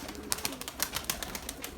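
Young white pigeons that have just started flying are cooing close by in a rooftop loft. A run of soft, rhythmic coos repeats about every few tenths of a second, with no voices over them.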